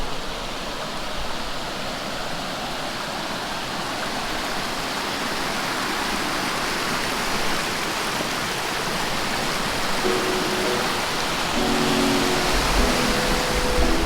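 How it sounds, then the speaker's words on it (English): Small waterfall rushing with a steady, broad hiss of falling water, constant and fairly close, with faint tonal hums near the end. "It's not a huge waterfall, but I would still classify that as a waterfall."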